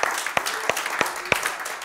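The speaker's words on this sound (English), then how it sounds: "Give the Lord a hand clap." A church congregation gives a hand clap during a Wednesday service, a dense wash of clapping with a few sharper slaps standing out, steady and moderately loud throughout.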